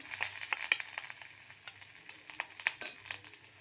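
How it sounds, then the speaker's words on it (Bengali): Garlic, chili and ginger fry in a pan with a soft, close sizzle and scattered light crackles, along with occasional faint stirring taps. "এগুলো একটু ফ্রাই হোক"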